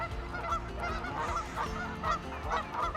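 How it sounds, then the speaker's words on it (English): Several geese on a pond honk repeatedly in bursts, fairly close, their harsh nasal calls overlapping one another with no talking. "There's geese."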